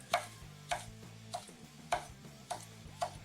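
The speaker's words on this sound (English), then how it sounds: "let's slice up a little bit of green onion here" A knife slices green onion on a cutting board, with six evenly spaced, crisp chops sounding close and fairly quiet, with no talking.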